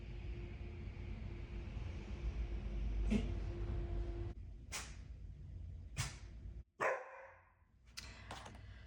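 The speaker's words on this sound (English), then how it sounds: "my dog started barking" A dog barks outdoors a few times at a distance, sharp separate yelps spread over several seconds above a low rumbling background, with a thump near the end.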